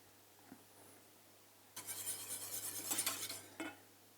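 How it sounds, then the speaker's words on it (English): A metal whisk rapidly beats a warm vanilla mixture in a bowl for mango sticky rice, giving a quick clattering burst of about two seconds, close up, after a faint tap and with no talk. "And get a whisk."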